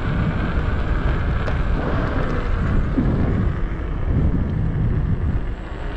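Steady, loud wind rush and low road rumble from a Begode MTen4 electric unicycle cruising at about 18 to 20 miles per hour, fitted with Clark pads, continuous throughout with no talking.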